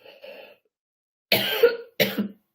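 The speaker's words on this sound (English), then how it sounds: "Excuse me, I'm going to cough" A person coughs twice in quick succession, close and clear, after a brief murmur of a voice in a quiet indoor setting.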